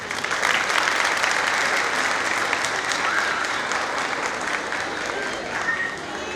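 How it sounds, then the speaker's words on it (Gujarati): Crowd at a children's kindergarten cultural festival applauding the teachers, a dense, sustained roar of clapping that stays loud and even throughout with faint voices mixed in. "અમારા ડાયરા માટે એક જોરદાર તાળી."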